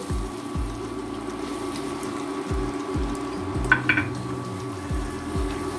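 Olive pickle with sugar is stirred in a pan, giving soft repeated scraping and low thumping strokes at an uneven rhythm, close by over a steady faint hum, with a brief clatter near the end.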